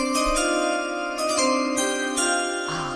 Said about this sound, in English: I love the draft chime.